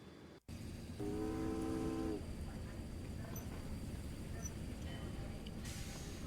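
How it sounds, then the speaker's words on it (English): A train horn in the adventure game Secret Files: Tunguska sounds for about a second as the train departs, followed by a steady rumble of rolling rail cars at moderate distance. "The train is leaving."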